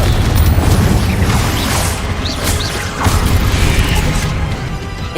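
Confringo blasting spell in the video game Hogwarts Legacy, a loud, continuous roaring blast with crashing, rumbling texture and brief bright flashes of sound layered through it.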